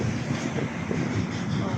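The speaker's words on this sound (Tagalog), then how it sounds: "Nakikita nyo, ang lakas ng hangin." Strong wind rumbles and roars against the microphone in a continuous, loud blast.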